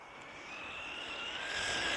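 A Tamiya RC car's electric motor runs at full throttle, giving a steady rising whine that climbs in pitch and loudness over two seconds, with nothing else heard.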